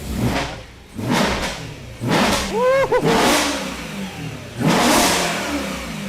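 A project vehicle's engine cranks and fires, then revs hard in several loud surges with a short squeal between them, close up, while people cheer and talk over it.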